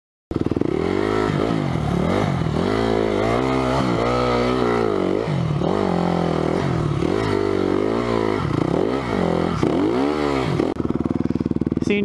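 A dirt bike engine straining on a steep vertical hill climb, loud and close, revving up and down in repeated surges with rising and falling pitch, ending in a rougher idle.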